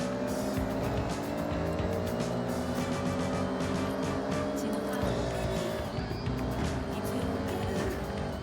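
Audi race car in the Forza racing video game, its engine droning loud and steady with tire squeal and skidding throughout, shifting pitch as it drives around the track.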